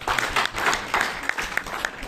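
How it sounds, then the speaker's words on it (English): A conference audience claps steadily at a talk on antisemitism in Europe, a continuous moderate patter with a few louder individual claps standing out. "let's hear and applaud Stéphane."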